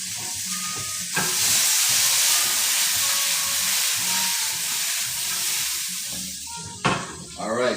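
Cabbage sizzling and frying in a pan for a Caribbean coconut curry, a steady close hiss with stirring clatter, and a sharp utensil knock near the end.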